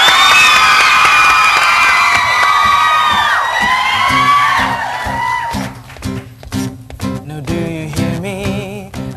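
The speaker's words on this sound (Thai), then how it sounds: "ขอเสียงเฮเสียงกรี๊ดหน่อยปรบมือเลยครับ" A studio audience at a Tonight Show taping cheers, whoops and screams with high-pitched shrieks. Scattered clapping runs under the noise, which fades into uneven bursts as the noise settles.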